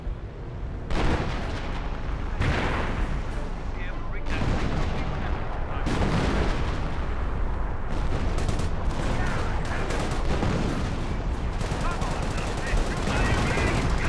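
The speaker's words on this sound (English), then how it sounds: "He may have forced fire the ground where that bunker was with his mortar." Continuous battle din from Company of Heroes, with heavy booming mortar impacts and gunfire layered densely and loudly throughout, no pauses.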